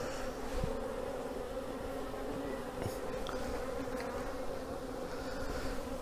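Honey bees at a split hive colony being inspected give off a dense, continuous buzz that holds steady at moderate volume, with no talk over it.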